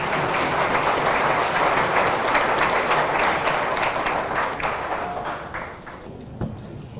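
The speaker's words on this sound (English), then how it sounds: "Let's give him a round of applause" Audience applause at a high school athletic hall of fame ceremony for the athletic director heading to the podium, dense sustained clapping from a crowd that gradually thins and fades toward the end.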